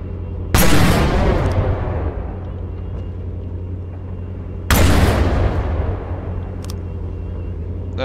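Anti-aircraft guns in the naval combat game From the Depths fire two heavy booming volleys a few seconds apart, each a sudden loud blast that trails off over a low engine hum.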